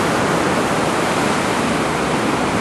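Steady, broadband wash of surf and moving water at a beach, heard up close and continuous while someone wades in; no voices.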